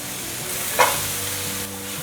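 Fresh shiitake mushrooms and jicama hiss quietly in a hot wok, with a brief sharp clatter of a spatula tossing them midway over a steady low sizzle, close and without voices.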